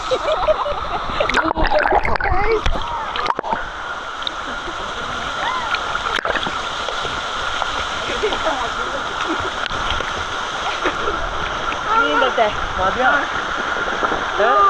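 Continuous splashing and churning of water close by as a woman swims in shallow water at a waterfall, with voices talking over the sloshing.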